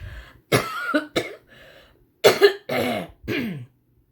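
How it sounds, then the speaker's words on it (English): A person coughs several times in short, harsh bursts with brief pauses between them, close by. "Need to cough and get a drink"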